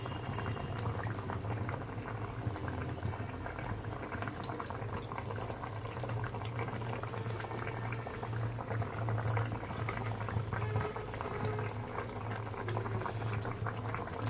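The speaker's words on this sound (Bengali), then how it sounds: "পাঁচ মিনিট ফুটবে," A pot of koi fish curry with cauliflower and potato simmers steadily, a constant close bubbling and hissing boil with no talk.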